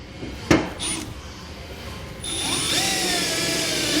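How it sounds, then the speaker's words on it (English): A sharp knock, then a power drill whirs up to a high, steady whine as it bores through a metal truck bed and cross member, pitch shifting under load. "you should feel it punch through the bed, and then you'll have to drill through that cross member"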